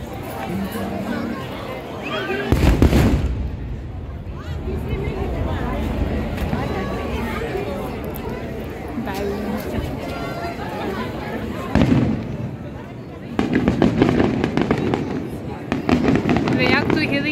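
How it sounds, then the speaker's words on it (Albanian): Fireworks launched from the sea at a festival in Rapallo crackle and boom in repeated bursts, with loud clusters of explosions over a crowd chattering throughout. "Por ne do të shkojmë tek fishek zjarre"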